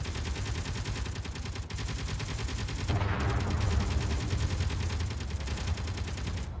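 Video game turrets fire a continuous dense stream of rapid gunshots, loud and steady throughout, with a brief shift in tone partway through and no talk.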